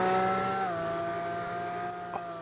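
Lamborghini engine in the Driving Empire video game, a steady sustained drone whose pitch shifts slightly partway through, playing loud and alone with no talk.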